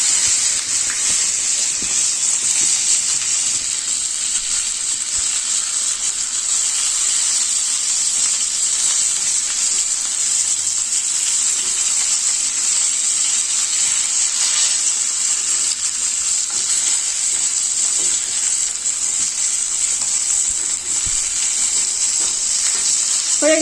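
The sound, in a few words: frying rohu fish in oil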